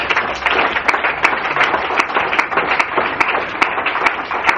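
A church congregation claps and cheers in acclamation of the Lord during an evening teaching service, a dense, steady wash of many hands with sharp individual claps cutting through, continuous and fairly loud with no talk.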